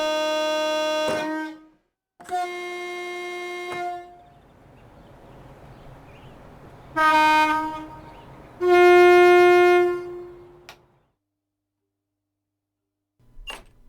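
Two-tone horn of a Class 321 EMU model train, sounded in several separate blasts of about one to two seconds each, with a softer mechanical hum between them and a brief click at the end.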